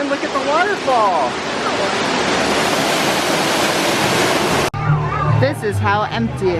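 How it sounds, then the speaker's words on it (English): Waterfall at the Calico Mine Train ride, Knott's Berry Farm, pours as a loud, dense rushing roar close by, with people talking and excited voices over it before a sudden cut to quieter chatter. "look at the waterfall."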